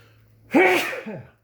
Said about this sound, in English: Was holding back a sneeze.